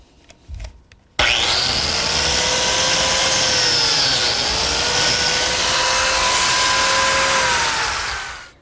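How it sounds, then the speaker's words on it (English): Biscuit joiner fitted with an auxiliary fence cutting a slot into a pine miter joint: a sharp motor whine spins up and holds steady for about seven seconds, loud and close, then winds down. "To make the biscuit slot, I need this auxiliary fence on my biscuit joiner"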